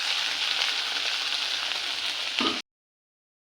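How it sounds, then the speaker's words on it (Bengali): Small hilsa pieces fry in hot oil with a loud, continuous crackling sizzle that cuts off abruptly into silence, then a brief burst returns at the very end. "এই যে দেখো মাছ ভাজাটা বসিয়ে দিয়েছি, মাছ ভাজা হচ্ছে"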